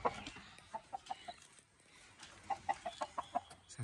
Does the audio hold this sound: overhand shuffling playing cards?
no